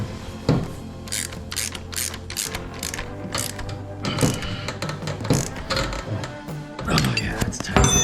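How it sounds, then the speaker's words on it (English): Two open-end ratchet wrenches clicking on a 2021 Yamaha YFZ 450R build: rapid, close, repeated ratchet-pawl clicks in bursts with short pauses and occasional metallic thunks, over a low mechanical hum. "We'll have to do this one with 2 open end ratchets."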